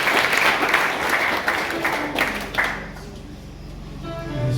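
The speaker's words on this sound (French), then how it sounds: "Là, nous applaudissons serviteur." A church congregation at a Baptist annual conference applauds the preacher. The close, busy clapping is loud at first, then thins and fades toward the end as a low murmur remains.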